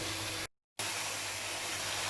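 Masala and tomatoes sizzle and roast in oil in a pan for an arbi sabzi, giving a steady, loud, close hiss that cuts out completely for a moment before resuming.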